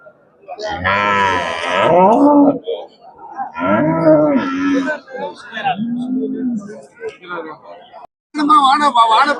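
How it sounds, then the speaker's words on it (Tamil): Jersey and HF cows moo loudly and repeatedly at a busy cattle market in Erode, Tamil Nadu, several long lowing calls close by with short gaps between them. "இங்க பாருங்க, ஜெர்சி மாடு ஹெச்எப் மாடெல்லாம் பாருங்க."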